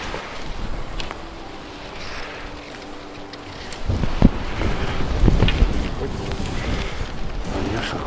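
Gusty spring wind buffets the microphone outdoors at a fishing spot near Moscow, with low rumbling bursts growing stronger partway through.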